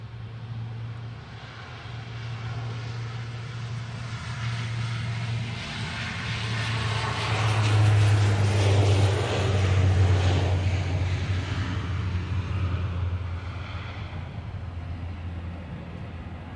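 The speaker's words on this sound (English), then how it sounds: "let's check this Dash 8" A Dash 8 turboprop airliner departs Manchester Airport, a steady propeller drone with a low droning hum that swells gradually and then eases, heard without talk.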